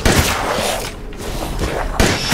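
Loud, dense gunfire from the video game Resident Evil Village, a continuous blast of shots and heavy thuds filling the whole moment, with a brief dip before another burst.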